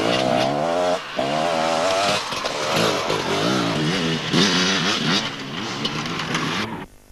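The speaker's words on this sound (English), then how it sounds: "Number 72, Mark Davis, riding a Kawasaki 250, finished 6th overall and 4th in his class." Kawasaki 250 enduro motorcycle engine at a 1997 Breckland enduro event, revving loudly and continuously with a wavering, rising and falling pitch for about seven seconds before cutting off abruptly.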